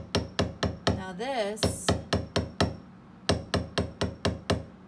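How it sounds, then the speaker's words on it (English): A steel hammer taps lightly on copper while a bow fibula is shaped, landing in a steady run of sharp, even metallic strikes with one short pause. A voice speaks briefly near the start. "I'm actually going to really, really gently hit it with my steel hammer."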